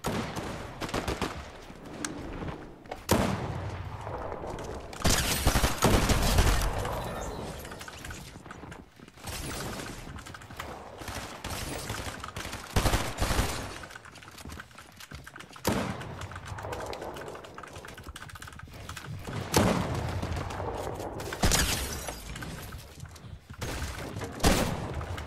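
Rapid gunfire bursts in a solo cash cup video game match, with sharp broadband cracks and sustained fusillade stretches recurring throughout, loud and close, with little or no talk.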